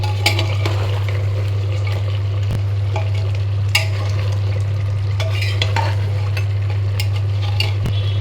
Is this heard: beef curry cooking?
yes